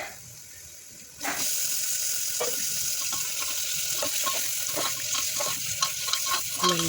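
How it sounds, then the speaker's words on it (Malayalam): Raw chicken pieces dropped into hot oil for a chicken dum biryani start a sudden loud sizzle that continues steadily, with scattered clinks and scraping of stirring in the pan, close up and without talk. "നന്നായി എണ്ണയിൽ വഴറ്റിയെടുക്കുക"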